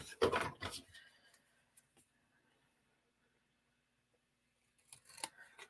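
Scissors cutting straight up the middle of card stock, a short crisp burst of snipping at the start, then near silence before another brief cutting sound at the end.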